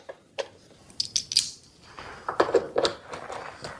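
A ratchet wrench clicks in short, irregular bursts while loosening bolts on a Briggs & Stratton engine with a leaking plastic intake, close by, with metallic ticks and small handling knocks between the strokes.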